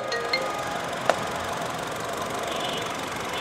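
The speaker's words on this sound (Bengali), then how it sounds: "গাড়ি কিন্তু স্টার্টে দেখছেন একদম সাউন্ডলেস গাড়ি" A Honda Freed with a 1500cc engine idles quietly right after starting, giving a low, even hum with a couple of faint clicks and one sharp tick early on.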